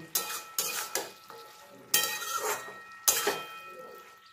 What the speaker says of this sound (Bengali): আর নারকেলটাও আমি অ্যাড করে দিলাম, দিয়ে সব কিছুর সঙ্গে আমি মিশিয়ে নেব।